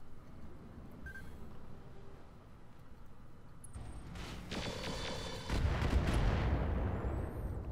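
Mech weapons in Roguetech fire in a loud burst of heavy booming shots and blasts that builds toward the end, with a rumbling low impact layered over steady game ambience.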